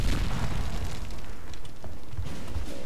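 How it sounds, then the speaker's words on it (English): A grenade blast in the Gears of War Ultimate Edition shooter game, a dense booming rumble that fills the whole stretch without letup, with a few sharper crackles riding on top. "was that your grenade?"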